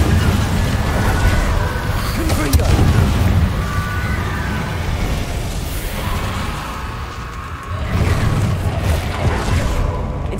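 Booming magical blasts from the Confringo fire spell in Hogwarts Legacy ring out loudly and repeatedly over a steady rumble of game noise, with whooshing bursts and a sharp crack near the start.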